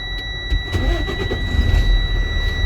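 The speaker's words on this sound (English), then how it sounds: "Engine start." A truck tractor's engine is cranked and catches, giving a low mid-range rumble that builds and settles. A few sharp clicks come first, and a steady electrical whine runs underneath.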